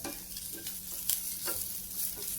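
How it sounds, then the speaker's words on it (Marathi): Masala for clam curry sizzles quietly in a pan while a spoon stirs it to golden brown, making soft scraping strokes over the steady frying hiss. "हे सगळं आपण व्यवस्थित चांगला गोल्डन ब्राऊन परतून घेणार आहे"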